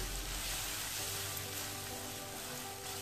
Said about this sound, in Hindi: इसको अच्छे से भून लेंगे ग्रेवी को बनाने के लिए हम मसाले को